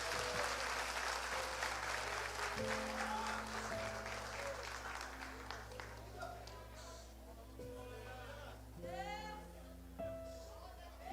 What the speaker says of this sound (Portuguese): dando a Jesus uma linda salva de palmas